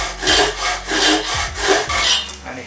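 A hand saw cuts through wood for Christmas candle holders, loud close rhythmic rasping strokes, roughly five back-and-forth pulls in quick succession, alone without talk.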